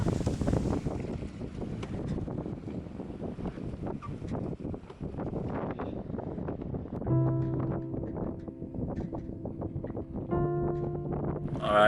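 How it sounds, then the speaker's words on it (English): Heavy Mistral wind buffets an old sailboat riding at anchor, a steady roaring gust noise across the whole stretch with creaks and rattling tones underneath, no voices. "Now it's just a case of riding out this heavy wind in this anchorage."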